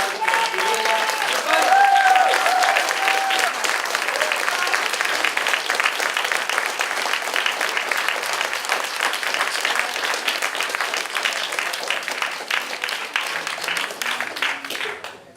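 Sustained audience applause fills a small cinema hall, dense clapping steady and loud for the whole stretch, swelling slightly near the start and tapering at the very end.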